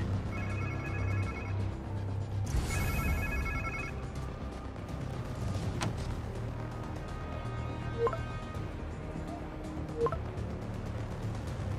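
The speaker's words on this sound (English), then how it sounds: "Sounds like somebody's phone." A telephone rings in two electronic bursts in the video game The Amazing Spider-Man 2, then stops, followed by quiet ambient sounds and occasional soft clicks.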